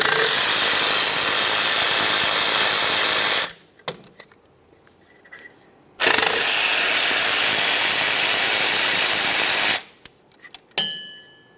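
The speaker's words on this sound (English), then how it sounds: "we'll continue on to removing our 2 10mm headed slider bolts" An air tool spins out the two 10mm caliper slider bolts on a Mercury Grand Marquis brake, each as a long loud buzzing whir lasting several seconds, separated by a pause with small metallic clicks and a short whir at the end.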